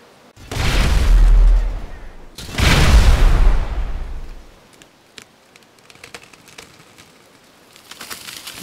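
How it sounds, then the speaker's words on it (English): Two booming blasts in GTA V, a 50 cal sniper rifle shot and a tannerite explosion, each with a long rolling decay, followed by quieter ambient crackle and light debris. "Now I want to kill the evil tree over there with my 50 cal sniper rifle."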